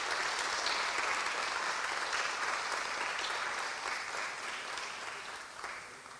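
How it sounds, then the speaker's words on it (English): A large audience applauds at an awards ceremony honouring Black women: steady, dense clapping that holds throughout and slowly fades a little toward the end. "can we give a big, massive round of applause to them as well?"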